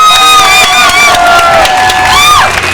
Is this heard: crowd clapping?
yes